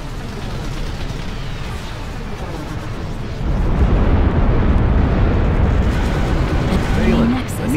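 Bombers strike a hack nexus in the Ashes of the Singularity video game, and the rumbling grows into a dense, continuous roar of explosions that swells louder midway and keeps going.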